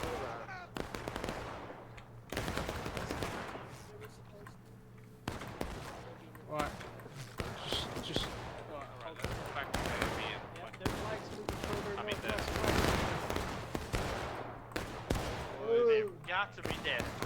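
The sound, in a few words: musket gunfire from a Civil War video game battle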